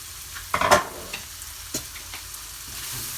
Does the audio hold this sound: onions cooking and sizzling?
yes